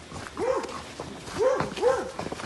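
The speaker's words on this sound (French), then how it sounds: "C'est un chien qui aboie, ça aide pas." A dog barks three times in quick succession on a horse yard, the barks moderately close and clear over faint background noise.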